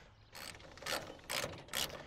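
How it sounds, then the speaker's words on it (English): A 3/8 ratchet fitted with a 1/2 inch socket tightens bolts at the front of a pickup bed while a TruXedo Deuce tonneau cover is installed. Four quick bursts of clicking come at an even pace, close and clear, with no talking. "begin to tighten. You'll use a 1/2 inch socket, 3/8 ratchet."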